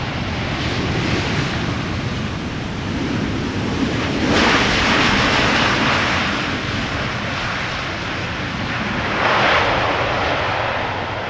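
A KLM Boeing 777-300 airliner landing at Schiphol Airport, its engines giving a loud, steady roar that swells and fades twice over about eleven seconds, with wind noise and no talk.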